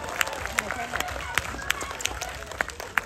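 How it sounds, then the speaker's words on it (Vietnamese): A studio audience at a Vietnamese TV show claps for an actress. The applause is a dense, ongoing patter of many hands with sharper individual claps standing out, and a voice speaks over it. "một tràng pháo tay cho diễn viên Cát Phượng trong vai Tư Mắm cùng đang có mặt trong chương trình"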